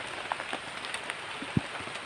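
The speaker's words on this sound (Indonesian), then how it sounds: "jadi malam ini itu hujan lagi guys. Hujannya gede ini loh" Heavy rain pours at a campsite at night, a dense continuous hiss with scattered close drips and taps on surfaces, no voices.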